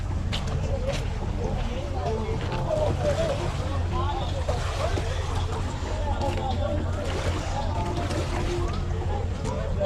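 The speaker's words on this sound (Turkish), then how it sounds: "Bir de jet skileri falan da var. Böyle fıldır fıldır geçiyorlar ya." Boats and jet skis run past a beach at Peche Island in Canada, a continuous rumbling engine wash mixed with wind buffeting the microphone while people talk over it throughout.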